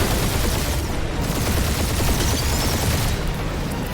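Gunfire in the Marvel's Guardians of the Galaxy video game, a steady dense barrage of blaster shots filling four seconds, loud and unbroken.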